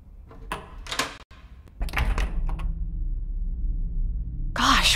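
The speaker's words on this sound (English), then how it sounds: "Maybe I should just try to open the door and let myself in." In the horror game Within, a door is opened with a few short clicks and a sliding scrape, followed by a low steady hum and a closer clatter at the end.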